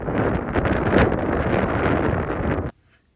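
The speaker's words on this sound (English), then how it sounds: "we're going to give you a sample of that real life sound of wind at camp here in just a couple of seconds" Strong, loud wind roars and buffets continuously against the microphone at a campsite at Laurel Lakes, California, then cuts off abruptly into near silence.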